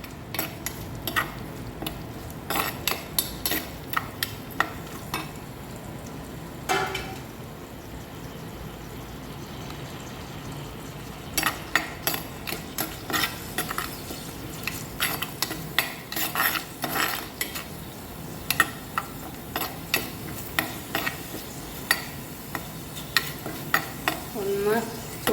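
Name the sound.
stirring sardine and Chinese potato curry in pan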